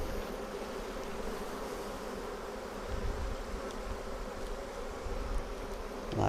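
Bees buzzing around an open Flow Hive during a hive swap, a dense continuous drone of many insects close by with individual bees passing near, no talking.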